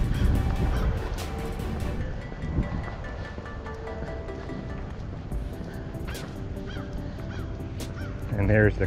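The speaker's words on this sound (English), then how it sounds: "And there's the crows." Crows calling along a power line hiking trail in Horsham, with ravens nearby, harsh caws repeating over a dense, noisy outdoor background of wind and rustle.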